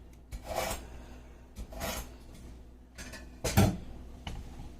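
Knife sharpened before cutting a stuffed jalapeño popper burger, four separate rasping strokes of steel on a sharpener, close and clear with short pauses between them and no talk.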